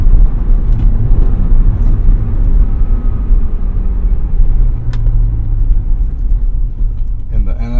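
A Honda NSX sports car driving, its engine a low steady rumble with road noise throughout and no voices.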